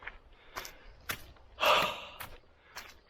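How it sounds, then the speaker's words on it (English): A solo hiker breathes hard while climbing uphill on a long overnight trail: a series of close, sharp gasps and exhalations, with one louder, drawn-out heave partway through. "Heavy breath."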